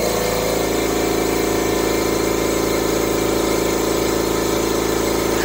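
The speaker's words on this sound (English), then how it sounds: "I'm going to go ahead and turn on the compressor now for a few seconds." An air compressor hooked up to an AEON MIRA 7 laser engraver runs continuously nearby, a steady loud mechanical hum and rumble with a rapid pulsing throb throughout.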